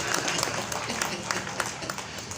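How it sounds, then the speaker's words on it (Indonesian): Audience applause at a communal fast-breaking (iftar) gathering, a dense patter of many hands clapping steadily throughout, fairly close and moderately loud, with crowd noise mixed in. "Tepuk tangan buat Juanda."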